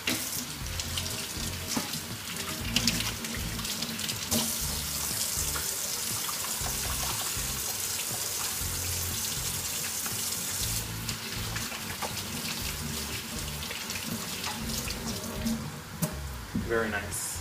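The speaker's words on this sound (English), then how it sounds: "Now I gotta wash my hands." Water runs steadily from a kitchen tap during hand washing before cooking chili, a continuous splashing rush at moderate level lasting throughout, with faint clatter mixed in.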